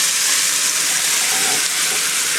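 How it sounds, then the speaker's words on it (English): Vegetables and ham frying in browned butter in a pan for a creamy ham and potato soup, giving a loud, steady, dense sizzle that runs unbroken throughout with no talking. "So now I'm going to go ahead and add in our vegetables"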